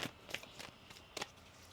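Tarot cards are shuffled in a few soft, quick riffling bursts, close and quiet with no voices.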